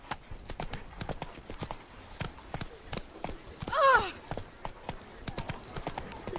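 Roach, Geralt's horse in The Witcher 3, clip-clops along with its hooves in a steady walking rhythm, and a short whinny rises near the middle.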